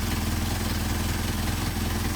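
Mercedes 190SL engine with a Solex 44PHH carburetor idling steadily with the counterweight pushed, a continuous even rumble with no voices.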